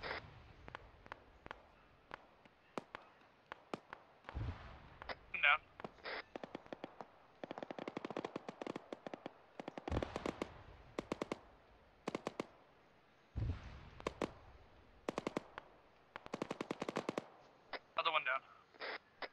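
Bursts of automatic and single-shot gunfire from the military shooter Arma 3, in an Africa campaign firefight, cracking in repeated volleys of varying distance, some close and loud, with radio chatter and voices talking between shots.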